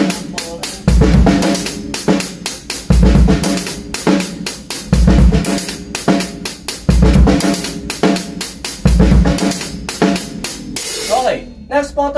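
A drum kit plays a practice pattern close and loud, with regular heavy kick and cymbal accents under a busy, repeating groove of hits.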